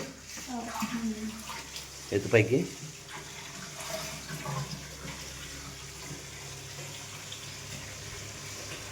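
Water pours from a pipe into a container with a steady splashing rush heard under occasional nearby speech, plus a brief louder clatter early on.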